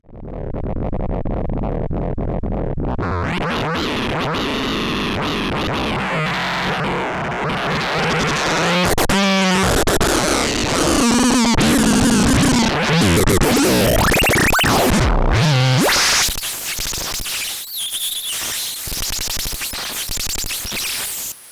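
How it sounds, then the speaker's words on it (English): Chaotic, gnarly electronic feedback tones from a Pittsburgh Modular Voltage Lab 2 synthesizer, two oscillators in a feedback loop through a wave shaper, sweep and screech, warbling and distorting continuously, then break into harsh noisy bursts near the end. "creating a feedback loop between the two oscillators."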